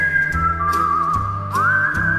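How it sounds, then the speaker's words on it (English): A clear, loud whistled melody carries over a low musical backing, holding long notes and sliding between pitches, from a song. "whistling."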